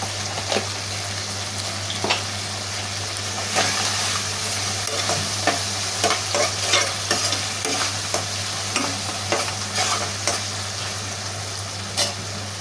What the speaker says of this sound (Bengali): মাছ মোটামুটি ভাজা হয়ে গেছে।